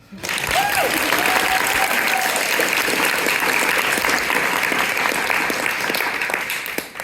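A theatre audience at a stage play breaks into sustained applause, a dense, steady roar of many hands clapping that holds for several seconds and fades slightly at the end, with a brief voice at the start.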